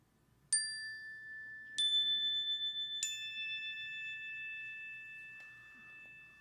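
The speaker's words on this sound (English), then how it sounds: "begin our service by ringing our chimes" Chimes struck three times at the start of a worship service, each bright ringing tone sustaining and overlapping the next, followed by a faint softer tinkle, with no voices.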